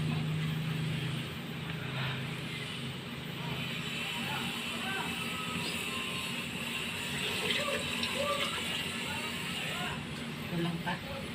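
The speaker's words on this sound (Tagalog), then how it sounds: "Pwede na saan lagyan ng tubig." Water poured into a cooking pot for Bicolano-style pork sinigang: a steady running, splashing stream that fills the whole stretch, with faint kitchen clatter.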